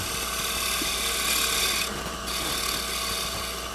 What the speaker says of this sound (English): You can see I'm getting little shavings just like you do in shear scraping.